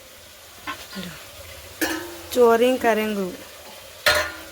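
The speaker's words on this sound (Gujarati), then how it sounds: "શાક વઘાર દીધું આ બધું" Chopped vegetables hit hot tempering oil and sizzle in a kitchen, with a steady frying hiss and a few spoon scrapes while someone talks over it.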